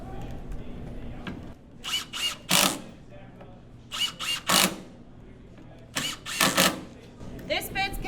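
A Milwaukee driver bit spinning a screw with a melted glove stuck on it, three bursts of whirring power-tool drive in quick groups, close and fairly loud, with quieter low hum between.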